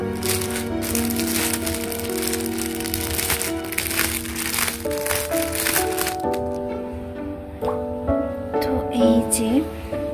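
Packaging for a tote bag being unwrapped, giving continuous crinkling and rustling close up, with sharper crackles and a few pauses near the end.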